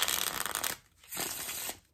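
A 007 Casino Royale playing card deck by Cartamundi being shuffled, giving a close, crisp riffling rush that pauses briefly and then riffles again.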